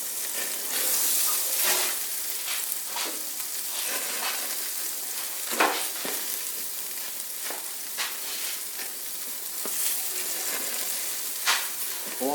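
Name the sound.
jalapeno jack cheese melting and sizzling on a BBQ grill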